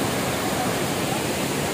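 Tirathgarh waterfall in Bastar pouring down in monsoon flow, a steady, dense roar of falling water that fills the whole clip evenly, close and loud, with no voices.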